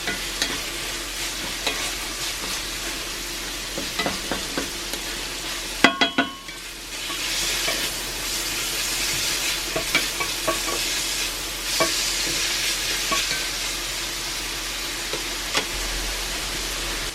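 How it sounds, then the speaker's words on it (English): Ground beef and mushrooms sizzle steadily in a cast iron pan, a dense close frying hiss broken by stirring clicks and scrapes, with one sharp knock partway through. "I threw the mushrooms right into the ground beef."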